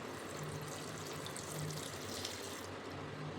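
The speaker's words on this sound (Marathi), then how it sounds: "आणि आता घालायचे पाणी" Water is poured into a pressure cooker full of chopped pav bhaji vegetables, a steady close splashing and trickling fill that lasts a few seconds with no one talking.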